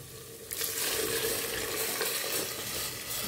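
Hot water poured into sizzling pepper and oil in a couscous pot, a sudden loud surge of hissing, bubbling sizzle that stays steady and close after the first half-second.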